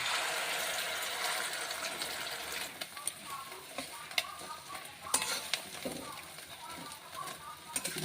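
Egg omelette frying in a pan for paratha, a steady close sizzle with intermittent stirring and scraping clicks, continuous for several seconds with a voice speaking over it.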